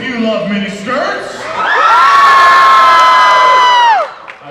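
Convention panel audience bursting into loud screaming and cheering, a sustained crowd roar of high-pitched shrieks and whoops lasting a couple of seconds after brief talk, then cutting off.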